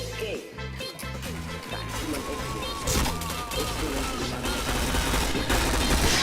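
Rapid automatic gunfire in the PointBlank first-person shooter, a dense continuous rattle of shots with game effects layered throughout, loud and close, while a player talks over it.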